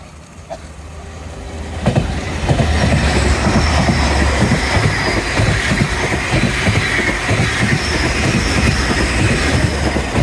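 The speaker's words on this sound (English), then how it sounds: "Oh, a lovely clickety-clackety one, that one." A train rolls past a seawall, its steady rumble building quickly after a quiet start and then holding loud, with a continuous rhythmic clickety-clack of wheels over rail joints and a thin metallic squeal above it, with no voices.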